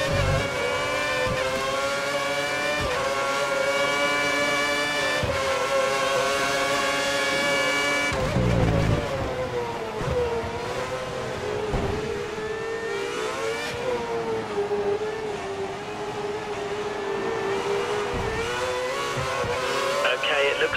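Race car engine screaming at full revs during a veteran league round in Great Britain, a loud sustained high-pitched whine with shifting pitch and a brief gear-change dip, continuous and close.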